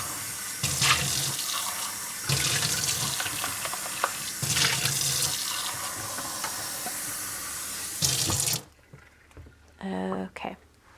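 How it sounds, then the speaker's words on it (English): Water at a sink while rinsing ink from a painting cup: a cup is emptied and refilled, giving a loud, steady tap rush in several surges for about eight seconds before it cuts off, then quieter handling noises. "I'm gonna dump this out and get new water."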